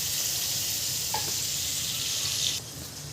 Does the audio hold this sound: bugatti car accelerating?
no